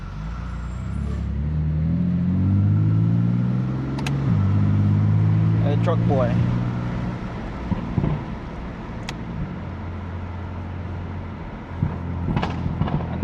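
A 480 hp BMW F80 M3 drives through NYC city streets, its engine rising in pitch, then several sharp exhaust pops and bangs crack out close, while someone speaks briefly.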